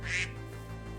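A single short, faint duck quack from Minecraft sounds over a steady low background hum, followed by quiet.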